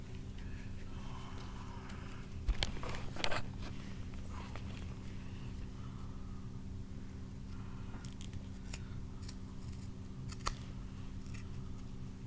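Scissors or a blade cutting through cardboard for a homemade stealth bomber model plane, a few short close snips and crunches around the middle over a steady low hum, otherwise quiet handling noise.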